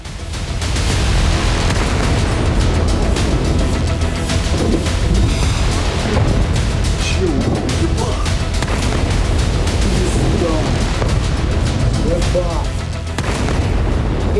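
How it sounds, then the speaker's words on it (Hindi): Missile strike on a residential area of Kyiv: a heavy, sustained roar of explosion and rumbling blast noise fills the whole stretch at high loudness, with booming low-end energy and crackling bursts throughout. "एक विनाशकारी धमाका और आसमान तक उठती आग की लपटें।"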